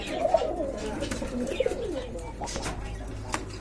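Pakistani Giribaz pigeons at a market coo close by in soft, rolling low calls, with a few brief flutters and a faint background murmur.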